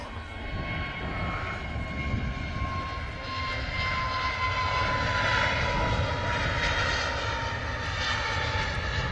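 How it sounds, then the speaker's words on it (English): Airliner engines roar steadily as an aircraft passes by at Manchester Airport, a loud sustained drone with a faint whine on top that swells slightly toward the end. "does the aircraft sound need to be higher?"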